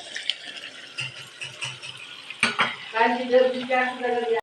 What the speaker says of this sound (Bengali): ওগুলো ভেজে রেখেছিলাম এবার দিয়ে কষে নেব